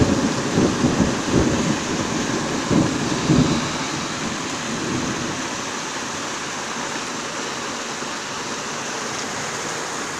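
Violent summer thunderstorm with a little hail, heard as heavy, steady rain roaring down. Low thunder rumbles through the first few seconds, then the downpour continues alone as a dense hiss.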